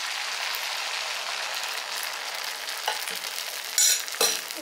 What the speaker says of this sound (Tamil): ஒரு கரண்டி மாவு எடுத்து இதில் ஊற்றுங்க.